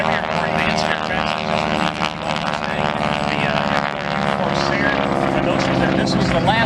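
An RV light aircraft at an airshow passes with a loud, steady propeller and engine drone that swells slightly, while an announcer talks over the noise.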